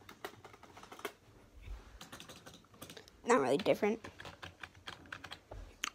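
Rapid clicking keystrokes on a new gaming keyboard come in close bursts, with a louder cluster of clacks midway. A person talks briefly over the typing.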